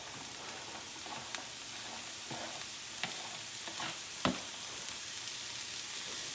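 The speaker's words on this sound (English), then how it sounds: "Let that fry up." Chopped green onion fries in butter in a pan, a steady close sizzle and crackle with occasional sharp pops and light clinks of a utensil, with no talking.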